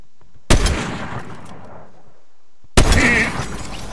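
A sniper headshot rings out in a video game, two sharp, loud shots about two seconds apart, each with a bright crack and a long, decaying echo.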